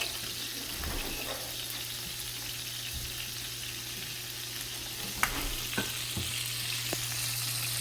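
Butter and minced garlic sizzle softly in a pan under a low steady hum, with a few sharp utensil clicks.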